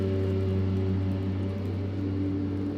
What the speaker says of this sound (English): I don't know why they decided to cut the grass now.